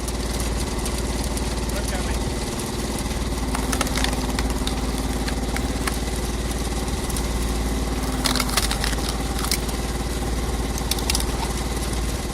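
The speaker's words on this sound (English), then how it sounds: "The PTO spins fast, and the screw bites deep, pulling wood apart with raw torque." A PTO-driven cone screw splitter on a homemade firewood rig runs steadily, a loud continuous engine drone with intermittent cracking and splintering wood as the screw pulls logs apart.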